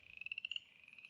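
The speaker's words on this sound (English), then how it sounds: "You hear the frogs." Frogs croak in a rapid pulsing series on a springtime Tennessee homestead, a quick rhythmic trill that fades slightly toward the end, clear and alone with no talk.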